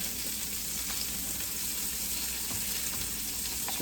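Food frying in a pan sizzles loudly and continuously up close while being stirred, with a dense, even hiss and light scraping throughout.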